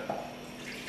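Milk, 200 milliliters, poured into a big bowl while mixing a protein chocolate soufflé, giving a steady close liquid trickle and splash for about a second with no talking.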